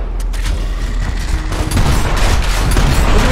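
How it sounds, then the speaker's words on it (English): Shotgun blasts from Gears of War in an insane co-op match, loud overlapping gunfire bursts over a dense, constant layer of battle noise and mechanical clatter. "Look at the shotgun spread, man."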